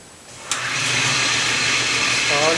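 A Jet table saw switches on with a sharp click, then its motor spins up into a steady, loud whir that holds for a couple of seconds, close by, with no talking.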